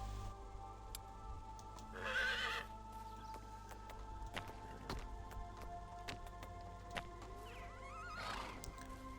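A horse in the game Medieval Dynasty whinnies twice over soft hoof clops and light rain, the neighs moderately loud against a quiet ambient background.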